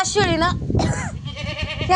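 A goat bleats loudly and close by, with wavering, drawn-out cries at the start and again just before the midpoint, over a busy farmyard background with people talking nearby.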